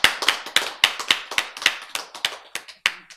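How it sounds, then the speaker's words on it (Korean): Audience at a Christian sermon claps in a quick, fairly even series of about a dozen sharp hand claps, close and distinct with brief gaps, and no talking over it. "박수 쳐야지."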